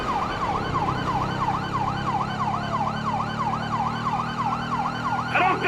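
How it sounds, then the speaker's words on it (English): Police sirens in Grand Theft Auto V wail continuously in a steady rising-and-falling cycle over a low vehicle engine rumble, loud and close throughout, with no talking. "I don't think they can hear the sirens"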